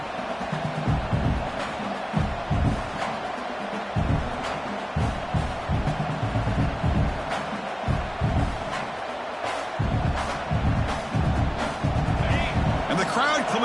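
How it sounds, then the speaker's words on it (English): A stadium crowd in the Madden football video game roars as the defense holds in the red zone, a steady wash of cheering under constant commentary, punctuated by sharp thumps and impacts throughout. "And the crowd coming to life here trying to help this defense down in the red zone."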